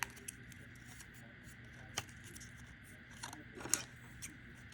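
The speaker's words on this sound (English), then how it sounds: "snip it off, and hold it down." Scissors snip paper during a small craft bookbinding job: a few quiet, close, crisp cuts spaced out over a soft background hiss, with no talking.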